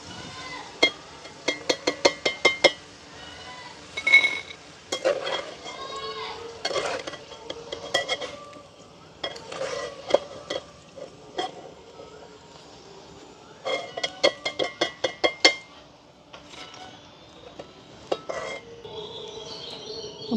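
Elephant foot yam slices frying in hot oil in a village kitchen, with repeated bursts of rapid metallic scraping and stirring against the pan and a low sizzle beneath, no talk.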